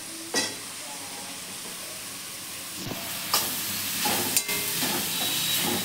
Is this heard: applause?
no